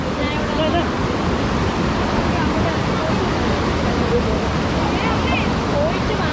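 Kacharam waterfall near Kanthalloor, water rushing down in a dense, unbroken roar that stays loud and even throughout, close at hand.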